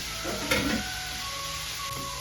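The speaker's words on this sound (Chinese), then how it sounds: "我们让它煎一煎，" Slices of pork seasoned with salt, pepper, oyster sauce and sesame oil fry in a hot oiled pan, giving a steady, moderate sizzle with a brief louder crackle near the start.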